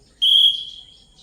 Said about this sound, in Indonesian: Kalau peluit dibunyikan, mulai ya.